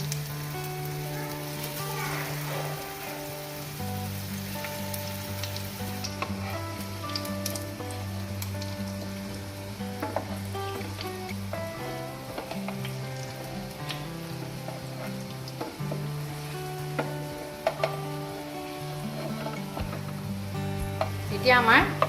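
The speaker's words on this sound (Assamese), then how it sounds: "এতিয়া গেছটো অকণমান কমাই আমি বৰকেইটা দি দিম।" Bora fritters fry in mustard oil in a pan on a gas stove, giving a steady, close sizzle and crackle that persists throughout over a background of sustained tones.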